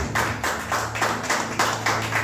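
Congregation applauding at a Sunday church service, rhythmic clapping in steady repeated bursts close by, with a low sustained tone underneath.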